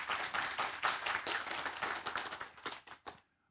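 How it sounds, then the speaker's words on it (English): Audience at an ocean affairs forum conference in Taiwan gives a warm round of applause for the minister, dense clapping from many hands that fades out and ends in silence after about three seconds. "I want everyone to join me in giving her a warm round of applause for everything she's done."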